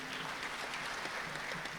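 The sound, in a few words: applause for the police band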